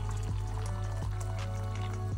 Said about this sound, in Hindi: पैन के अंदर मैं डाल रही हूँ वाटर,